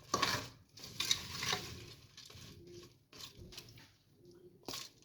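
Mixed vegetable pickle being stirred with a spoon after pink salt goes in: irregular wet scraping and light clinks against the pot, coming in short bursts with pauses, close and fairly soft.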